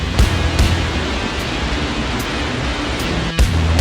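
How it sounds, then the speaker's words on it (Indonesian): Loud, steady rushing of an underground river echoing through a karst cave, a dense broadband roar that continues throughout, with a few brief dull knocks or bumps close by. "Ini ada suara kencang lagi, kayaknya ada sungai bawah tanah lagi"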